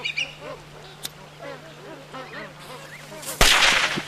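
Ducks and other birds calling at a lagoon, a scatter of quacks and honks near and far, with a sharp slap and a burst of noisy splashing at the end.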